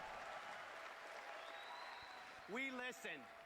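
Crowd applause at the Xbox E3 2013 presentation, a steady wash of clapping and cheering filling the hall, with a loud amplified voice cutting in near the end.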